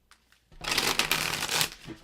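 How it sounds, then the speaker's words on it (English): A deck of tarot cards is shuffled in one quick, close riffle, a brief burst of papery flutter after a soft tap. "I butchered that shuffle, but it's okay."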